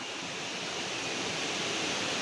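Fast river water rushing loudly over rocks in the Konkan hills, a steady dense roar filling the whole short stretch with no voices.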